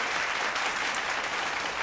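A studio audience at a televised singing contest applauds, dense steady clapping that stays loud and even for a couple of seconds, with no voices over it.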